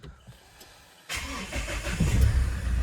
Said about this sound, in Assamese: এয়া ষ্টাৰ্ট দিলোঁ, ইঞ্জিনৰ চাউণ্ড শুনা পাইছে